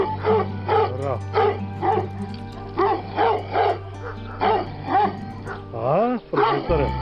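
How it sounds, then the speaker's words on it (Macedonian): Small puppies bark and yip in a rapid series of short, sharp calls, close by and fairly loud, with a whining squeal near the end, heard alone without talk. "Кутриња. Види. И мали кутриња."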